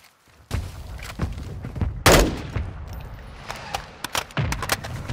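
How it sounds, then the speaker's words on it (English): Gunfire and explosive blasts in the video game Warzone 2 during an incoming mortar strike, rapid bursts of shots with one loud booming impact midway and further thuds after. "Our mortar strike is inbound."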